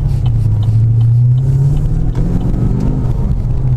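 A Chevrolet SS fitted with a Whipple supercharger drives with a deep, steady engine drone that rises slightly in pitch as it pulls, loud and continuous from inside the car.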